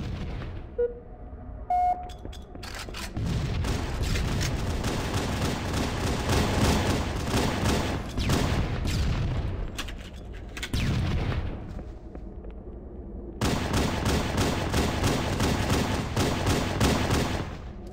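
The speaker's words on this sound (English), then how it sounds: "I spawned in the middle of the blue team shooting at me." Sustained gunfire from the enemy blue team in Halo CE multiplayer, dense rapid shots and blasts that run loud for long stretches, break off briefly, then resume with no talking.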